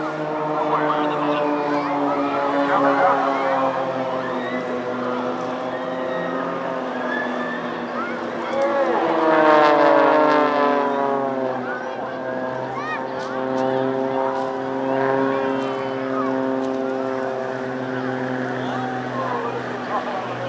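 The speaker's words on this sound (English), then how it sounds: "2 aircraft coming from the left, 2 coming from the right." Aircraft fly past over the beach at a seaside air show. A droning propeller engine swells and shifts in pitch as it passes by, while a commentator talks over the public address throughout.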